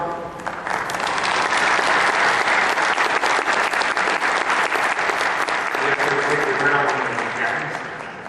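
Audience applause welcoming a guest at a conference on integrative approaches to diabetes, sustained dense clapping that rises quickly and fades toward the end, with a faint voice underneath late on.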